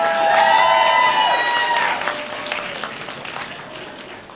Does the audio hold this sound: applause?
yes